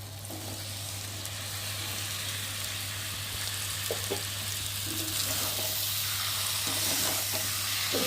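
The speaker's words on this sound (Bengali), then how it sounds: "মশলাটা একটু ভালো করে নেড়ে নেবো, যাতে মাংসের চিকেনের গায়ে মশলাগুলো লাগে।" Steady sizzling of spiced chicken frying in a pan, with spoon scrapes and stirring knocks scattered throughout, close by and fairly loud.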